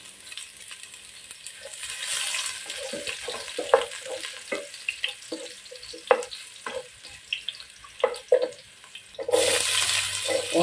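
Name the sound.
garlic sautéing in cooking oil for chicken adobo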